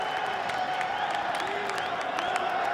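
The crowd at the FIFAe World Cup esports event cheers and claps, a dense continuous roar of applause with scattered whoops throughout.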